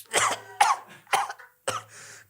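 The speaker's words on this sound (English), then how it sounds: "Coughing up blood," Harsh, close coughing in four separate fits, each a sharp burst that trails off, with a wheezy gasping tail after the last, no talk.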